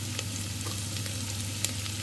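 Garlic frying in a hot pan for chicken caldereta, giving a steady, close sizzle with a low hum underneath and a few sharp pops and spatters.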